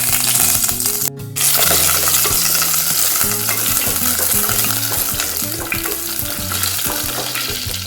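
Chopped tomato, onion, green chili and ginger fry in a pan with a steady loud sizzle, while a spoon stirs and scrapes against the metal throughout.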